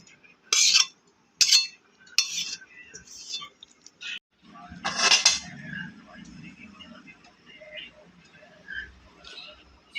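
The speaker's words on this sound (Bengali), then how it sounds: "পাত্রে কচুর শাকগুলোকে নামিয়ে নিচ্ছি।" Taro greens are scooped from a cooking pan into a serving dish, making sharp intermittent clinks and scrapes of utensils against cookware, with soft background rustle between the strikes.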